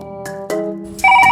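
A mobile phone rings for an incoming call: a loud, close electronic ringtone with pulsing tonal beeps that step up into a brighter melodic chime, with no voices over it.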